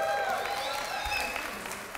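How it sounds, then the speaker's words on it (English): Applause from a crowd at a World Refugee Day celebration and graduation, a steady wash of clapping held at even strength for two seconds with a faint voice underneath. "Wow, a round of applause again."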